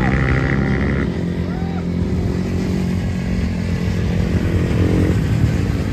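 KTM enduro motorcycles roar loudly and continuously during the Pokhara Moto Enduro Cross 2024 race, engines droning close by with voices audible underneath.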